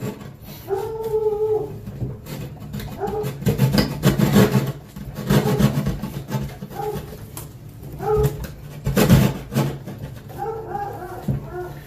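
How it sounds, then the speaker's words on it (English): A dog out in the yard gives repeated yelping, howl-like barks at a distance, coming in several bursts between loud rasping scrapes of drywall being cut and patched indoors. "Oh, and the dog's barking. Probably yelling at a squirrel or a cat in the yard."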